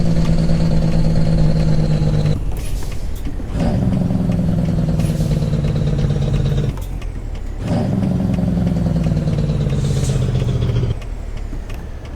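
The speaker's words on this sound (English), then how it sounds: "I'm using the engine brake so much in town here" A Kenworth T660 truck in American Truck Simulator rumbles loudly in town, its engine-brake drone rising and falling in three long stretches split by short gaps, close and alone with no talk.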